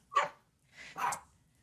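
A puppy lets out two faint, sharp barks indoors, one short yip followed after a pause by a slightly longer bark, with nobody talking.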